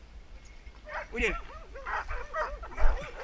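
Young Airedale terrier pups yip and whimper in short, rising bursts during a training session, several quick yelps in a row close by, with a voice speaking in French over them.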